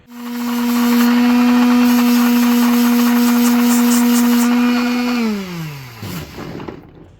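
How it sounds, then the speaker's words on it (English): A power sander smooths a plastic piece from a Lost in Space Moebius Chariot model kit, giving a loud, steady, close motor whine that holds evenly, then winds down and spins to a stop near the end. "I just use this sander right here"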